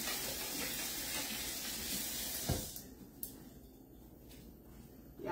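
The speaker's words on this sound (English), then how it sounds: "Let me wash my hands" Steady broadband rush of tap water running over hands at a kitchen sink for about three seconds, then the flow stops, leaving a quiet room with a few soft clicks and knocks.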